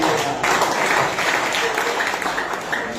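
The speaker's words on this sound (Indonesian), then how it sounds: "Berikan tepuk tangan." Applause from a church congregation during a Sunday service, a brisk burst of clapping with some crowd murmur mixed in, lasting a few seconds.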